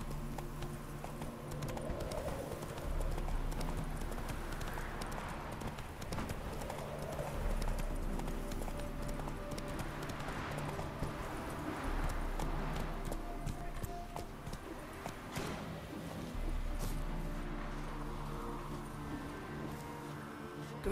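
Roach the horse trots in The Witcher 3, hooves clip-clopping in a steady rhythmic gait over ambient game background, close and clear, with a brief spoken line near the start.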